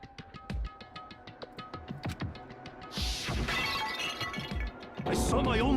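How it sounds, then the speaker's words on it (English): A Monokuma bottle from Danganronpa smashes over a head, a loud glassy shatter bursting out twice amid quick game sound effects and thuds, with a voice talking over much of it. "I grabbed the Monokuma bottle from the shelf and smashed it across her head."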